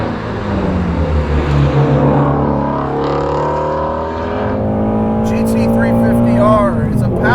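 A Ford Mustang GT350R with a 526-horsepower engine downshifting from 6,000 RPM in a canyon, its loud, rising and falling engine note sweeping through revs up close, with a voice talking over it.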